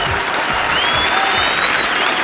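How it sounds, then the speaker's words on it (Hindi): A studio audience at a comedy talk show claps loudly and steadily, a dense, continuous wave of applause with a few whistles rising through it. "आपकी जोरदार तालियों के बीच स्वागत करना चाहता हूं"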